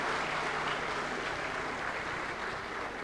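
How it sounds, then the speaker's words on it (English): Brief applause rises from an audience at a National Energy Conservation Award ceremony welcoming the Minister of Power, a steady dense clapping heard at moderate distance. "A thunderous round of applause and once again welcome to you"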